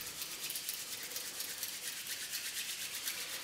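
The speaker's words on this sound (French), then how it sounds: "on commence toujours par réchauffer les mains pour pouvoir les charger en énergie. Donc on y va, on frotte." Two hands rub briskly together to warm up, a close, steady, rhythmic swishing of skin on skin that keeps going without a break.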